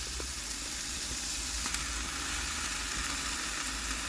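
Steak frying in a pan inside a van during torrential rain, giving a dense, steady, close sizzle with a few small pops throughout.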